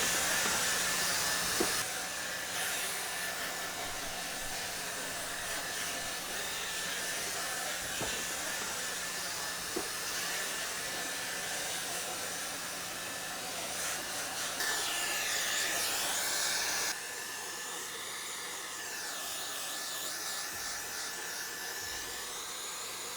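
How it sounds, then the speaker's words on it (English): A handheld hairdryer blowing on curly hair, a steady loud whooshing hiss running continuously with a brief shift in tone partway through, close and without talk. "I'm just going to really start to just let the hairdryer go through and start to dry it."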